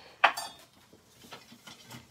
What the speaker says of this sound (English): And just add it into the boiling water.